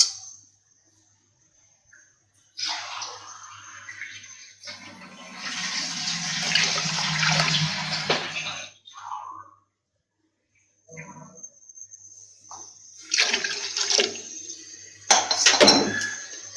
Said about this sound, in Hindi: 2 गिलास पानी हम इसमें ऐड करेंगे